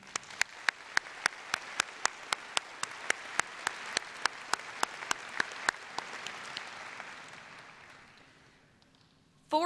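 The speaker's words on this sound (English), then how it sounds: "Let's give our family, friends, teachers, and administrators a round of applause to show how much we appreciate them." A graduation audience applauding at a high school ceremony, steady crowd clapping with sharp individual claps standing out, sustained for several seconds before fading out near the end.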